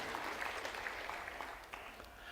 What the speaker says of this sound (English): Thank you very much for applauding that lady and people in our system.